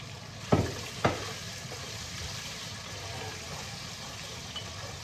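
Garlic sautés in a pan with a steady, close sizzling hiss that runs throughout, broken early by two sharp knocks of a utensil.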